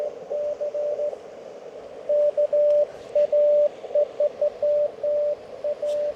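A hand-sent Morse code CW signal from a straight key comes through a QRP radio receiver as a clear single tone in irregular dots and dashes over a steady hiss of static.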